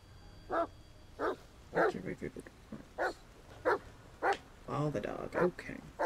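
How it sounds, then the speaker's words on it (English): A dog barks repeatedly in the video game The Medium, sharp yips and bow-wows arriving in an irregular series at close range, with someone talking between and over some of the barks. "stop all that barking. I'm coming."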